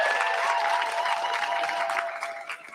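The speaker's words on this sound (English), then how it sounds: "Let's have a massive round of applause for all of our contestants this evening." An audience at the Leeds University Challenge live finals claps for the contestants in a dense burst of applause that thins out and fades near the end.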